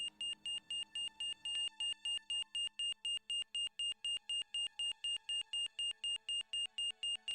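A steady electronic medical monitor alarm in the video game Broken Sword beeps in a fast, even rhythm of short high-pitched tones, loud and continuous with no talking.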